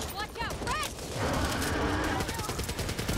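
AK rifle fire in the co-op zombie shooter Back 4 Blood, a sustained rattling automatic burst in the second half after creature cries, loud and close amid game noise.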